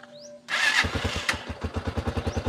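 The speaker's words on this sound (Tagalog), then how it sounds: "Yun, kumandar ng TMX 125 na ngayon ay 150cc na." A TMX 125 motorcycle upgraded to a 150cc engine starts with a sudden burst and then settles into a steady, rhythmic single-cylinder putter at idle, close and clear.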